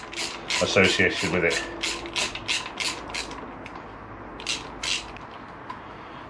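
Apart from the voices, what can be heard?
ratchet removing bolts from Honda VFR800 motorcycle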